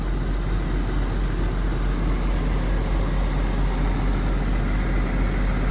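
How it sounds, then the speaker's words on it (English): A Case tractor idling at close range, a steady, unbroken low engine rumble that holds level throughout with no other sounds on top. "she's a smart looking tractor."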